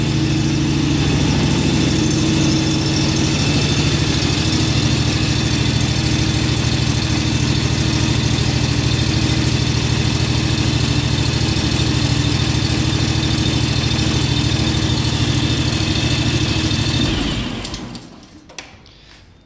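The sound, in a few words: pump engine running after new spark plugs fitted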